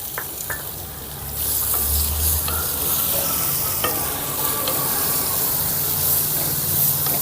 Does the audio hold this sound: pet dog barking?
no